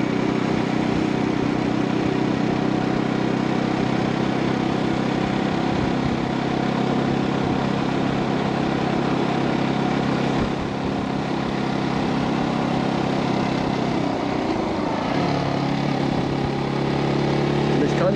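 A Brixton 250 motorcycle on a tour through the Black Forest's Kinzigtal gives a steady, continuous engine drone with wind noise, while someone talks over it throughout.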